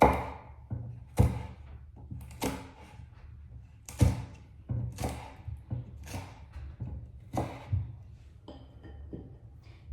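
Green chillies being sliced with a knife on a cutting board for a fish dish, giving a run of sharp, irregular taps and thuds close by, with no talk.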